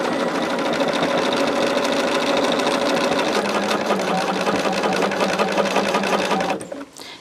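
A sewing machine runs continuously while quilting along a quilt top's stitch line, a steady, loud, rapid whirring chatter up close that slows and stops near the end.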